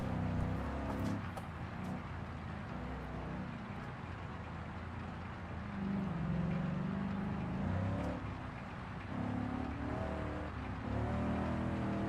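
A car engine in BeamNG revs and strains while driving through a river, a steady loud motor drone with rising and falling pitch swells and water churning underneath, no voices.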